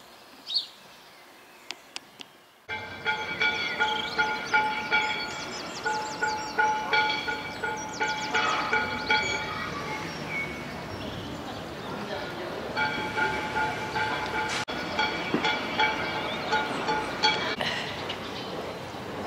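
A train rolls along a railway station platform in Brittany with a rhythmic series of clacking beats over wheels, with sustained tonal squeals and hums after a quiet start.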